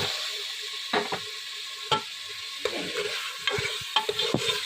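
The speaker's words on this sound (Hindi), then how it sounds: "आलूओं को 2 से 3 मिनट हम भूनेंगे।" Potatoes fry in spiced oil for an aloo masoor dish: a steady background sizzle with repeated scraping stirs of a spoon against the pan, close and moderately loud, with no talking.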